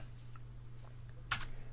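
Keystrokes on a computer keyboard during a DNS traffic lab, a few faint scattered taps followed by a sharper double click near the end as enter is pressed, set over a steady low hum.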